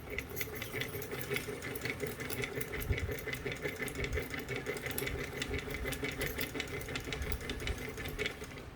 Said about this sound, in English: And that's how you wind a bobbin.